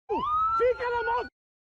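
A fire engine siren wails in one short, clear rising-and-falling sweep lasting about a second, then cuts off into silence.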